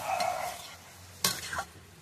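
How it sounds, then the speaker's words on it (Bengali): Dry green vegetables stir-fried in a pan without water: a soft sizzle fades under quiet frying, then two sharp spatula scrapes and stirs ring out near the end. "জল জল দেব না, ভাজা ভাজা করবো।"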